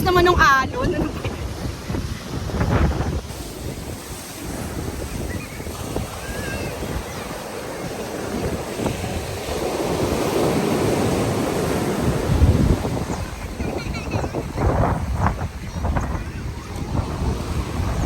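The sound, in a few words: strong ocean waves at Patar Beach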